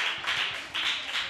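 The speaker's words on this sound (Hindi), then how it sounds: "और एक बार ताली बजाएंगे" A group claps their hands in sharp, rhythmic bursts at a church youth program, four quick rounds of applause close together with no talking.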